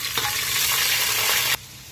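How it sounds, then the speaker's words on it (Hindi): Cumin seeds and chopped onion hit hot oil in a pan while cooking khichdi, giving a loud, bright crackling sizzle with stirring scrapes for about a second and a half before dropping to a quieter fry. "हमने 100 से 150 ग्राम तेल गरम कर लिया है। उसमें डाल रहे हैं हम जीरा, कटी हुई प्याज।"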